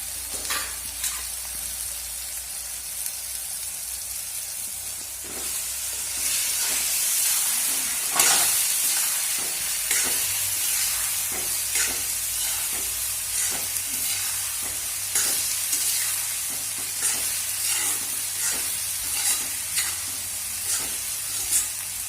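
Eggs sizzle and fry in a pan with cooked spinach for a green egg curry, with steady close crackling and repeated scraping stir strokes throughout, no talking.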